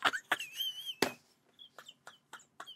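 A person imitates eagle squawks with a few sharp, shrill vocal cries in quick succession, loud at first and then fainter, interspersed with brief clicks.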